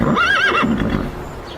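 A human voice imitates a horse neighing with a loud, close, wavering whinny that rises and falls for about half a second, then trails off into quieter breathy noise.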